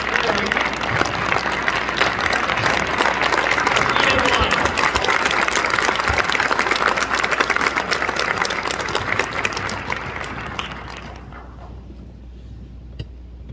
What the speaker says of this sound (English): I think we need to give Charlie Wiles a round of applause.